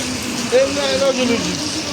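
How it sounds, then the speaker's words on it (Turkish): Heavy rain falls in a steady, dense hiss that fills the whole stretch, with a voice speaking briefly over it partway through. "Çok da yağmur yağıyor."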